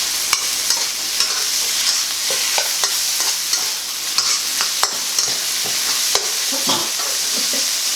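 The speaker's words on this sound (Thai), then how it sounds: "เอาหมูลงไปผัดเลย ผัดให้เข้ากัน ให้จนสุกเลยนะคะ" Pork stir-fried in a hot pan makes a steady bright sizzle, with frequent scraping and clacking strokes of a spatula stirring the meat, close up and with no voices.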